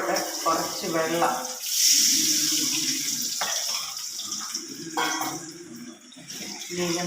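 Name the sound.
water being poured into pickle pan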